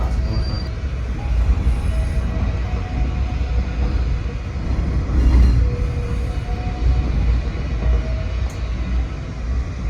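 An intercity passenger train on the Madiun–Jakarta run via Bandung, heard from on board during a brake test, gives a steady, loud low rumble of wheels and running gear, with faint squealing tones drifting in and out.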